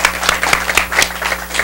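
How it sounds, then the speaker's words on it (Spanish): A studio audience on a television show applauding in a short, steady burst of clapping, fairly close and continuous. "un aplauso para Emilio."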